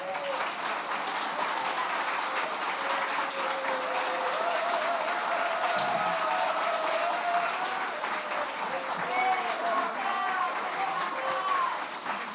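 A debate audience in Bécancour claps steadily and densely for the two municipal election candidates, with voices murmuring throughout the sustained applause.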